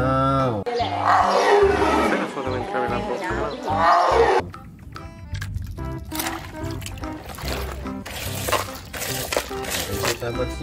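A toy tiger lets out a loud, growling roar that lasts about four seconds. Softer clattering and rustling noises follow.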